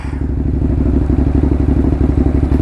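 A Ducati motorcycle rides through New York City, its engine giving a loud, close, rhythmic thumping rumble at steady pace, with no talking.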